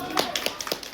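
Scattered crowd clapping at an award presentation during a khatai festival in Raudhdhar, Tehri Garhwal, with sparse, uneven claps over a faint voice.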